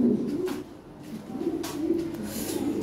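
Lahori pigeons kept in cages for sale give soft, low cooing calls that swell and fade over a few seconds, close by and steady, with no voices.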